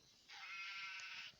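A single sheep bleats in a wolf video game, one drawn-out wavering cry lasting about a second, clear and fairly close against a quiet background.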